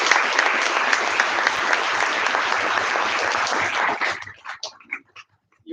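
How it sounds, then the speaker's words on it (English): Audience at a pre-university college valedictory ceremony gives a loud, sustained round of applause that fills the first four seconds, then breaks into scattered claps and trails off near the end. "Can you have one more round of big applause for all these achievers?"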